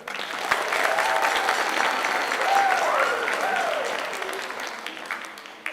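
At a Comstock High School bands spring concert, the audience applauds a sixth-grade instrumentalist award recipient with a dense, even wash of clapping that gradually fades.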